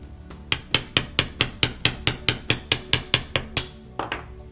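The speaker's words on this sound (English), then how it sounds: "I'm going to take my hammer, use the big side here, and I'm just going to slightly smash the edges" A hammer's broad face strikes the edges of a small metal craft piece for a tree-of-life project, about fourteen sharp, ringing blows at a steady, even pace, close and loud, followed by a softer tap, with no talking.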